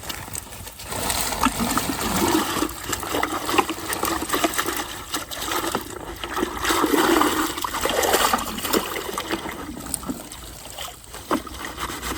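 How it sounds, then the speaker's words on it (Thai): Water washing mud off a freshly caught fish haul at a rice field, a continuous splashing, sloshing rush with bursts of turbulence, close and steady for about twelve seconds with no talking. "เอาอันนี้ไปล้างก่อนดินออกก่อน"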